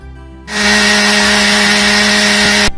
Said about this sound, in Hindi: अब इन सभी चीजों को हम पीस लेंगे।